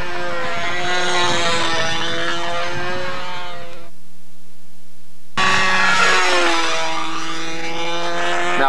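A model airplane with an 11.7 three-blade propeller flies on a windy day, its high whining buzz sweeping in pitch as it passes. The sound cuts out briefly and then returns loud and close.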